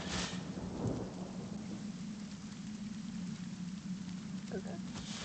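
Thunderstorm spell cast from a rain scroll in a fantasy video game: a steady wash of heavy rain hiss with a low rumbling undertone, a brief thunder crack near the start, continuous and fairly loud throughout.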